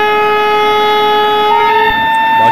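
Locomotive horn in Indian Train Simulator, a loud, steady multi-tone blast that holds for about two seconds before shifting pitch near the end, over a low engine rumble.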